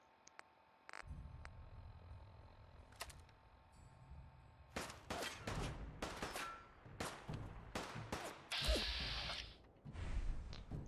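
Gunfire in Fallout 4 survival mode, a string of sharp shots and bursts that grows denser after a quiet start, loud and close with ringing tails.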